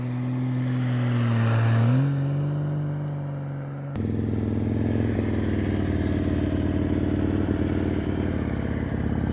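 Motorcycle engine at low speed during advanced slow-speed riding practice, a steady close idle-to-low drone that dips and shifts pitch, then settles into a continuous rumble with light clatter.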